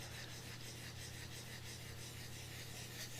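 Steady, continuous rasping of hand sanding to scuff a finish coat before clear coating, rhythmic back-and-forth strokes, close up with no talking.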